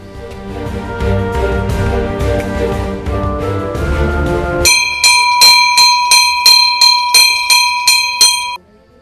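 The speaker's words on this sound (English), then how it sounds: "so they ring the bell" A church bell at a hilltop church in Greek Calabria rings repeatedly in a steady rhythm of bright, ringing strokes, loud and close, following a stretch of rumbling low noise.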